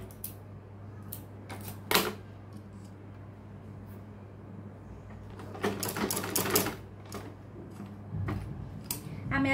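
Sewing machine running along a trouser seam with lace trim, short bursts of close mechanical clatter separated by pauses, over a steady low hum.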